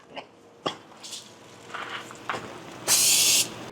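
A single short burst of aerosol oil spray hisses for about half a second onto pork back ribs in an Oklahoma Joe's Tahoma 900 smoker near the end, after a few scattered clicks and soft handling noises.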